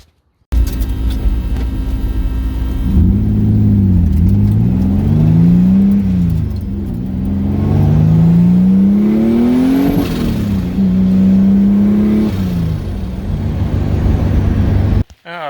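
Boosted Pontiac Fiero engine revving under load while driving, a loud continuous engine note that rises and falls through several swells, close up and steady from start to finish with no talk.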